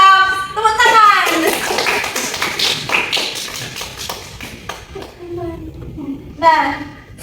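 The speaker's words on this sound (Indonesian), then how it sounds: "Tepuk tangan." A classroom of students claps in a short rhythmic burst, fairly close and loud, followed by scattered taps and a few young voices as the clapping fades.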